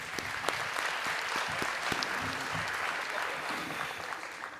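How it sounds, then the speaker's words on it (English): Applause fills a hall at a State of the City event hosted by the chamber of commerce, many hands clapping steadily at moderate distance with a few sharper claps standing out. "Please give my team a round of applause."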